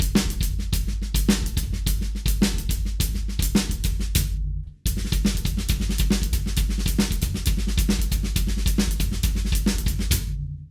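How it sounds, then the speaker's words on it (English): A drum kit plays an inverted paradiddle sticking on the hands with the right-hand part doubled on the bass drum. Dense, steady strokes run loud and close, break briefly midway, then resume. "I'm going to play my inverted paradiddle with my hands and double my right hand part with my right"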